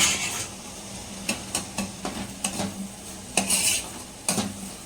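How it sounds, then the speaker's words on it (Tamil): A utensil stirs and mixes a cold summer juice in a vessel, with repeated clinks and scrapes against the container in an uneven rhythm, close and fairly clear, with no talking. "ஸோ இந்த மாதிரி நம்ம வந்து இப்போ மிக்ஸ் பண்ணிக்கலாம்"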